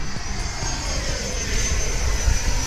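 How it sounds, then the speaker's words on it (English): Freewing Eurofighter v3 RC model jet flying a steady, loud ducted-fan whine with a broad rushing roar that swells slightly toward the end, heard alone, with no voices. "Eurofighter really hauls some serious butt into the sky and I didn't even have to use full throttle"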